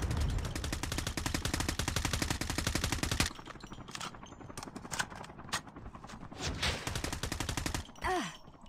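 Rapid bursts of automatic gunfire in Call of Duty Mobile, a dense, loud volley for about three seconds, then scattered, weaker shots and game effects trailing off.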